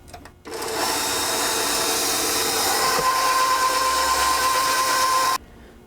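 An electric mixer runs on a low setting, about number two, beating eggs and vanilla extract into cookie dough. It is a steady, close whirring hum that starts abruptly, holds for about five seconds, then stops.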